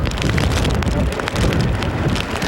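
Heavy rain from the outer bands of Hurricane Frances striking the shore, a loud, dense, continuous hiss of downpour with gusty texture and no voices.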